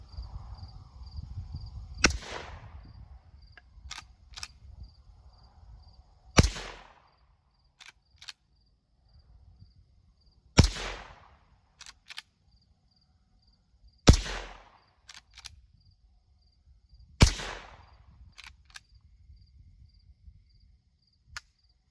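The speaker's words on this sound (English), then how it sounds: "your 22 Magnum is quite a bit louder than your average 22 long rifle" A Henry Golden Boy .22 Magnum lever-action rifle firing at a small target board: five sharp, loud reports spaced a few seconds apart, each followed by the metallic clack of the lever cycling, with a faint hum in the quiet gaps.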